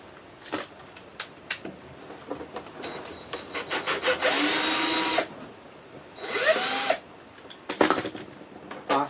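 A Phillips screwdriver works a screw loose from the plastic guard over a Porsche 944 headlight, heard as close scraping and grinding scratches, two longer grinding stretches and scattered clicks and taps, with no talking.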